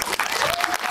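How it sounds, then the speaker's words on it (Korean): Audience applause for the actors at a Korean film screening Q&A, a brief dense burst of clapping from a small crowd, steady and fairly loud throughout. "처음으로 배우님께 드리는 박수입니다"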